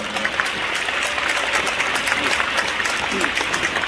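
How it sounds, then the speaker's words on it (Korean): A large crowd at a Christian prayer meeting in the Anyang indoor gymnasium applauds steadily and loudly, a continuous rush of clapping that echoes through the hall, with a voice heard faintly beneath it. "박수해 주시면 감사하겠습니다"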